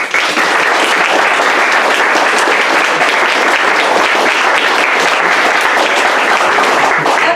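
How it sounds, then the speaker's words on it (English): An athletics club audience applauds its members at an awards night. The clapping is loud, dense and continuous, holding steady from start to finish. "So a round of applause for all of those people."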